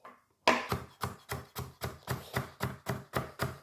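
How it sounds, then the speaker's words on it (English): Knife dicing sweet potato on a cutting board, a steady run of about a dozen crisp, close chops in an even rhythm after a brief silence. "We'll just keep dicing away our sweet potato there."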